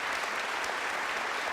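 Audience applause fills a hall during a heated public debate, steady and dense clapping from many hands throughout, fairly loud and close, with no talk over it.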